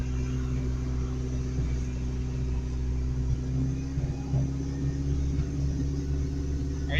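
A truck engine with its entire exhaust system fallen off runs with a loud, steady droning rumble and a few slight rises in pitch, close and continuous with no voices.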